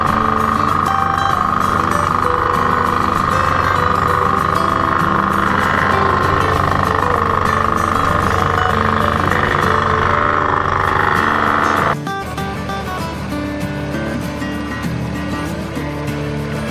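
A wood planer driven by a Farmall A tractor at a tractor show in Woodstock, New Hampshire, runs with a loud, steady engine and machinery drone throughout, dropping to a slightly quieter hum near the end.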